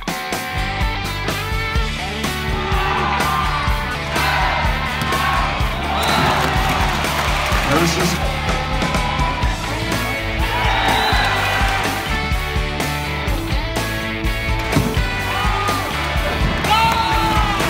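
A large crowd at a volleyball event cheers, yells and whoops loudly and continuously in a big arena, with music and announcements blending into the roar.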